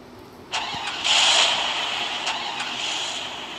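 A car engine starts up in the video game Free Fire, with a cranking burst followed by a rising rev that settles into a steady idle hum, close and clear with no talking.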